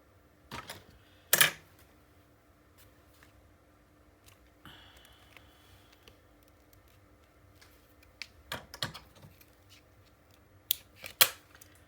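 Scissors snip paper for a Stamperia Christmas mini album, a few sharp separate cuts spread over a quiet background, with small handling rustles and no voices.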